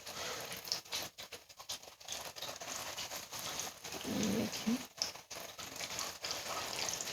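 Chicken pieces deep frying in very hot ghee over fairly high heat, a steady, dense crackling patter like heavy rain, close and continuous with brief dips.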